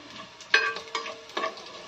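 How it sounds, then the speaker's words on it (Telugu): Food is fried in a pan and stirred with a utensil, giving a steady close sizzle broken by three scraping stirs, with no talk. "ఇది మొత్తం బాగా ఫ్రై చేసుకుందాం"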